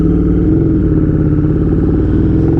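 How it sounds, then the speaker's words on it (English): A KTM 1290 Duke motorcycle engine running loud at close range, a steady throbbing idle-to-low-rev rumble with a rapid pulsing beat, alone without talk. "This thing is so loud, oh my god, and it's very touchy throttle."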